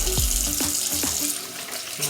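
Hands rinsed clean under a running kitchen tap after being rubbed with a little bleach, a steady close splashing stream with a few brief spurts, no talk over it.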